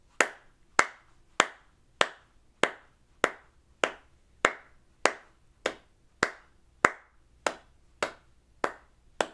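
Steady hand claps, about fourteen evenly spaced sharp claps in a quarter-note pulse, close and crisp, keeping time for a beginner flute practice exercise; no flute tone stands out beneath them.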